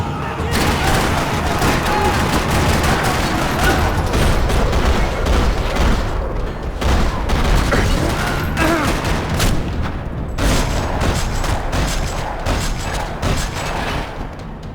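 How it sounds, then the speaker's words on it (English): Heavy gunfire in a parking lot in Max Payne 3, dense rattling bursts and loud booms layered almost without pause, with brief gaps, close and overwhelming throughout. "Another parking lot rattling with gunfire"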